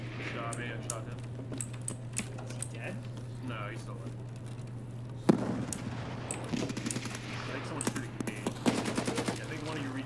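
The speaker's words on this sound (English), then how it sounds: "Shot me, I shot him." Rapid bursts of automatic gunfire in a video game shootout, sharp cracks coming in clustered volleys over a steady background hum.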